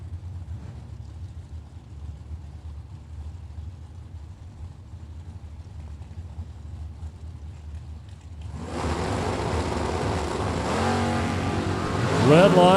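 Drag race cars, one of them a Camaro, launch hard off the start line at a Super Pro bracket race. A low idle rumble comes first, then a sudden loud roar of engines takes over and keeps building to the end. A voice is faintly audible underneath.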